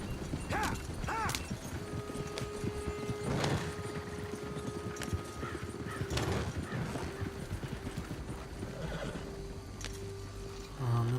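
A horse in a Wild West video game gallops with rhythmic hoofbeats and gives several whinnies and snorts over busy game ambience, with a voice speaking briefly.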